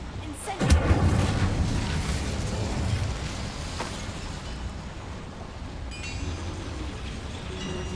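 Incendiary fire spell cast in Hogwarts Legacy inside a goblin mine, a sharp burst followed by a roaring, rumbling blaze that sustains for several seconds, with talk over part of it.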